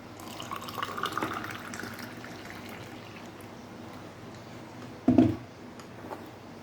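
Slightly warmed water poured into a glass with a spoonful of detox powder for a gut-health drink: a short, close splash and trickle rising briefly out of a quiet room hush, then fading.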